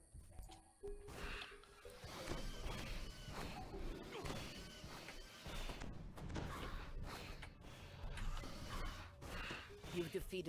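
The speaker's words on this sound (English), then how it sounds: "you can hear the sound of something crashing through the underbrush nearby" Something crashes through underbrush nearby in the video game Dungeons & Dragons Online, a busy run of rustling, snapping and thudding impacts with swooshes, moderately loud and continuous throughout.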